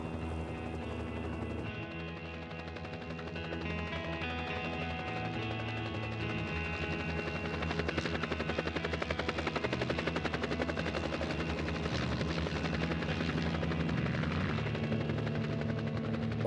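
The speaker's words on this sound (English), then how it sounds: "There's no one in the world for whom flying a helicopter comes naturally." A helicopter's rotor chops rapidly and steadily with a loud engine whine, holding close and constant throughout.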